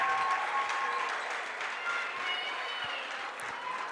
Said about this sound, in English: Senior Jaylee Garneau gets a well-deserved applause as she heads to the bench here on senior night